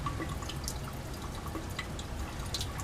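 Slow condensate drips falling back in a sand-heated reflux setup during a Grignard reaction, a few faint scattered ticks against a steady low hum of lab background.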